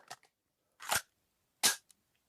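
Three sharp mechanical clicks and clacks, spaced out and close, from a .50 cal pistol being reloaded in the VR game Pavlov.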